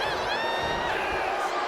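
An arena crowd cheers for Rusev at a WWE 2K26 Raw match, a broad sustained roar with rising whoops that swells and then eases slightly, as a commentator's voice runs over the noise.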